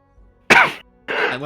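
A single sharp sneeze bursts out close by, followed moments later by a softer breathy exhale, in an otherwise quiet room.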